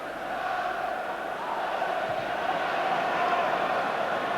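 Football crowd at Rangers v Aberdeen, a broad sustained roar from the stands rising slightly in swell, heard beneath a commentator's voice.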